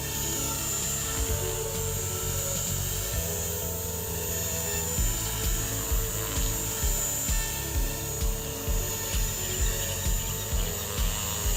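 A JR Forza 450 RC helicopter hovers and slowly pirouettes with a continuous whining rotor and motor drone. The buzzing pitch stays steady, with faint rhythmic pulsing as it turns.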